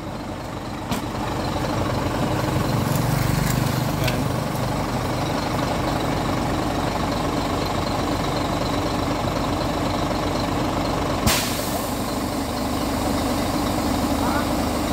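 A Howo truck on a final road test after an electrical fault with the brake light, its diesel engine running steadily and loud throughout, with a sharp click or hiss near the end and faint voices in the background.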